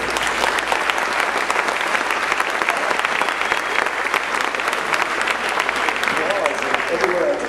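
A theater audience at a post-show discussion applauds in a dense, sustained burst of clapping that carries on steadily throughout.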